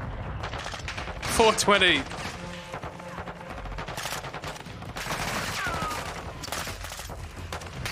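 Bursts of rifle and machine-gun fire ring out in Call of Duty: Modern Warfare II, a heavy volley near the start followed by scattered shots and rumbling blasts, with a player's voice speaking over the action.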